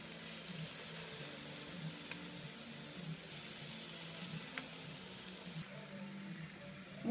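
Steady, close sizzling of meat patties frying in a Princess pizza maker with the lid closed, a continuous crackle with a few faint clicks and no talking.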